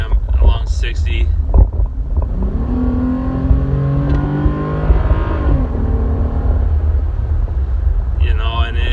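A 2017 Dodge Ram with a 3.6L V6 Pentastar engine and a cold air intake drives steadily, its loud engine drone and intake rumble heard from inside the cab, with brief talk at the start and end.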